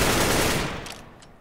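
Loud burst of gunfire in Counter-Strike: Global Offensive, a dense close volley that quickly decays into a fading tail with a couple of fainter trailing shots.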